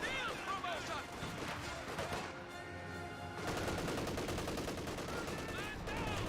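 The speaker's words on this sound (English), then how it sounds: "PTRS is firing away." Rapid gunfire from PTRS anti-tank rifles in the WWII strategy game Company of Heroes 2, dense bursts and cracks over a busy battle bed with a short lull midway, while a voice talks over it.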